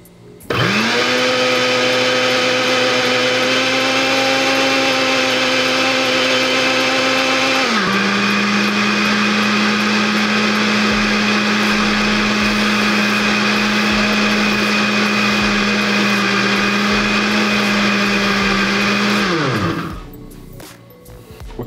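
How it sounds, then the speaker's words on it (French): Blender mixing powdered milk with butter for sweetened condensed milk, a loud, steady motor whine that drops slightly in pitch partway through and runs for about twenty seconds before spinning down. "nous allons commencer par mettre le blender"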